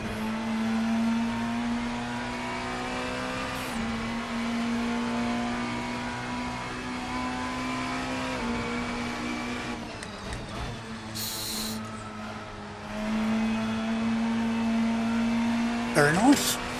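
Race car engine in Assetto Corsa's VRC Tourers pack droning steadily, with the pitch rising and falling as the throttle comes on and off and a brief shift near the end, heard under a driver's talk.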